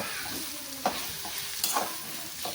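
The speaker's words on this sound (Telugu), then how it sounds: "బాగా దగ్గరగా బాగా వేయించుకోవాలి ఈ విధంగా వేగనివ్వాలన్నమాట" Gongura (sorrel leaf) chutney frying in oil, a steady soft sizzle with a few louder stirring scrapes, close and without voices.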